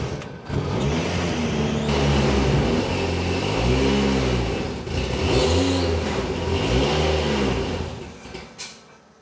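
A Citroen BX 4TC Group B rally car engine, close and loud, revs up and falls back in three distinct swells over a rough, burbling idle.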